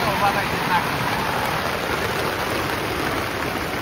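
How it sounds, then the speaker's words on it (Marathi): Heavy rain pours down in a steady, dense hiss, loud and continuous throughout with no pauses. "पाऊस इतका जोरात आलाय ना काय बोलायलाच नको."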